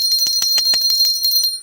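A small bell rung repeatedly in quick, even strikes, bright and close, ringing out alone for a couple of seconds.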